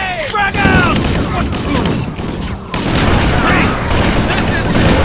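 In the Halo video game, a frag grenade explodes with a loud boom amid heavy battle noise, rattling gunfire and shouting soldiers.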